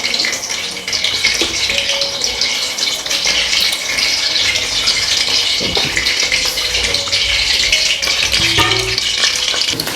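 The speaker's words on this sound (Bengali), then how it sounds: "সেই ম্যারিনেট করা মাংস কিন্তু এখন আমি এর মধ্যে আমি ঢেলে দেবো" Marinated pork hits a hot pan of fried onion and spices for a village-style pork curry, giving a steady loud sizzle and hiss that runs without a break, with scraping stirs now and then.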